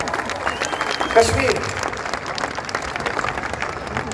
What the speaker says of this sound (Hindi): तालियां बजा दीजिए एक बार।